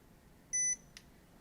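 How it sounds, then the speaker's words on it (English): A Baseus T2 rope-type anti-lost tracker gives one short, clear electronic beep, followed by a faint click, in an otherwise quiet room. "the beeping of this device"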